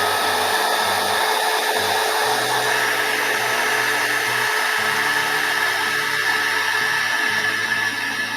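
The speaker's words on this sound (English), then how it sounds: "So I'm going to use this dryer just to zip this along." A hair dryer blows steadily and loudly up close while drying acrylic paint on a painting, a constant whooshing roar with a wavering motor hum underneath.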